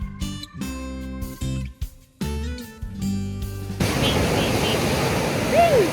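After a stretch of music, surf rolls in at Cinnamon Bay Beach in the Virgin Islands: a broad, steady wash of breaking waves that fills the last couple of seconds.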